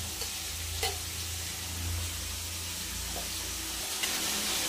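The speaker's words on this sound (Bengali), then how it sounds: "ভালো করে একটু কষিয়ে নেব।" Chicken curry sautéing in a pan with ginger, garlic, tomato and green chilli paste gives a steady, quiet sizzle, with a few soft stirring scrapes and light clinks over a low hum.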